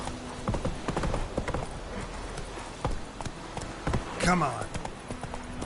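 Geralt's horse Roach gallops in The Witcher 3, a rapid rhythmic clip-clop of hooves close by with a brief whinny near the end, while a voice speaks over it.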